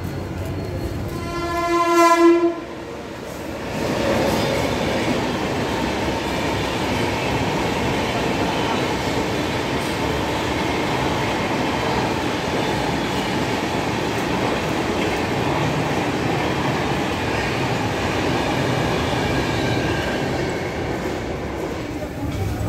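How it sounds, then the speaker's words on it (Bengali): A train passes through Whitefield railway station in Bangalore, heard from a footbridge above: a loud horn blast opens, then a steady, close rumble of wheels and carriages rolls on without a break. "এখান দিয়ে সারাদিন বিভিন্ন স্থানীয় এবং এক্সপ্রেস ট্রেন যাতায়াত করে।"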